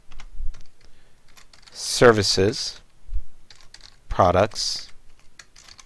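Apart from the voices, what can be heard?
typing on a computer keyboard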